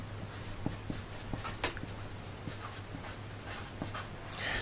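A pen or pencil scratches on paper while a graph is sketched by hand, giving soft irregular strokes and taps up close in a quiet room.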